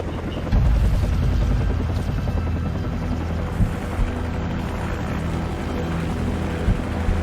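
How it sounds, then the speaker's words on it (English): A helicopter in the video game Call of Duty 4: Modern Warfare, a steady droning rotor thrum with low chopping pulses, sustained and fairly close. "Take out that helicopter."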